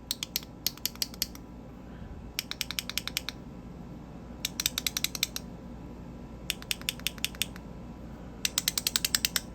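Bursts of rapid plastic clicking from a fidget toy clicker, several quick clicks per burst, repeating in short groups with pauses between, close and fairly crisp.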